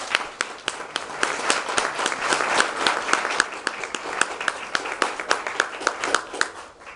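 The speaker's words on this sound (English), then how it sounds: "can you please join me in giving them a big round of applause?" Audience applause fills the room: a steady crowd of clapping hands with sharp individual claps standing out, sustained at moderate loudness throughout.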